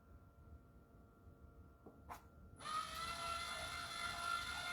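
Lymow robotic lawn mower raising its cutting deck: after a faint whine and a brief click, a steady high-pitched electric motor whir starts up and runs on, close and moderately loud.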